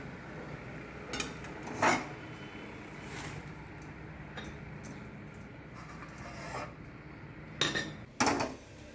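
Cooked ridge gourd tipped out of a metal cooking pot, with a few sharp clanks and scrapes of pot against utensil over a low steady kitchen background.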